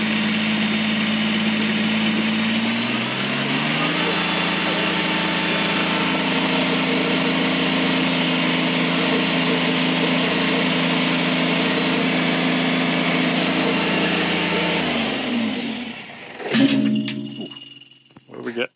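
A Kubota BX2380 compact tractor engine starts up and runs at a steady, loud drone for about fifteen seconds, then winds down before some clunks and a short mechanical noise.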